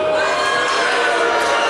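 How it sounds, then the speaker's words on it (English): A debate audience reacting at once, a loud mixed wall of crowd noise with booing, cheering and applause blended together, sustained and dense throughout without a break. "they're booing and applauding"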